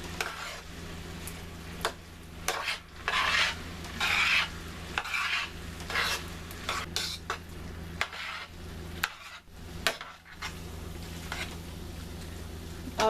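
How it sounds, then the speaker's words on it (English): Noodles get stirred into a vegetarian stroganoff sauce in a pan, making a steady wet swishing and scraping with a faint sizzle beneath and occasional utensil clicks against the pan. "let's add our noodles back to the sauce. And mix it up in there"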